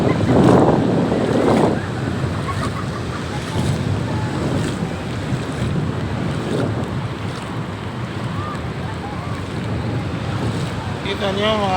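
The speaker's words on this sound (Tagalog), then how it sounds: "Ang lalaki ng alon guys, alon." Heavy surf roars steadily at a surfing beach with wind buffeting the microphone, a continuous wash of big breaking waves close by, with a few faint voices mixed in.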